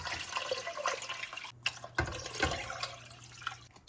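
Water poured into a soup pot of garlic, diced tomatoes and lentils in a home kitchen, a steady close splashing fill with a few louder gushes and sloshes partway through.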